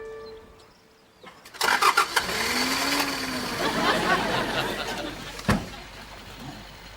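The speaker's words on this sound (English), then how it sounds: "You have wonderful touch with the internal combustion engine, Miss Davenport." A car engine cranks and catches with a loud sputter, then settles into a steady, rough running roar that fades slightly near the end, heard close with a sharp knock partway through.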